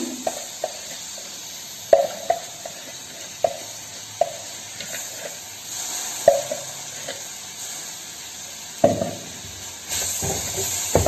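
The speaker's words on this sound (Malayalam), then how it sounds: "പൊടിയുടെയൊക്കെ പച്ചമണം മാറുന്നതൊന്ന് ഇളക്കിക്കട്ടെ" Spice powders fry in a pan as a spoon stirs them, soft steady sizzling broken by regular sharp clicks and scrapes of the spoon against the pan, close by and moderately quiet, with no talking.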